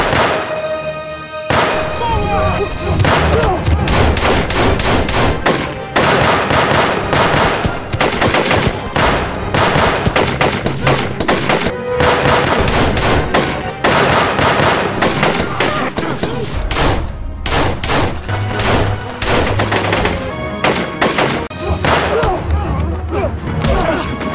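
Heavy film gunfight as elite soldiers and militants exchange fire at a tent camp: loud, dense bursts of automatic and single shots with thuds and crashes, nearly continuous for the whole stretch.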